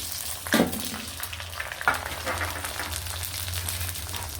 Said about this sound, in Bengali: এখন আমি দিয়ে দিব কয় টুকরা তেজপাতা এবং পেঁয়াজ কুচি